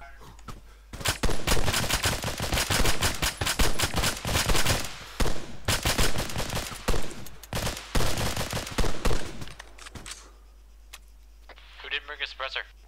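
Unsuppressed gunfire in the military game ARMA 3 erupts in loud, dense automatic bursts for several seconds, then tapers to a few scattered shots as voices come in over radio chatter.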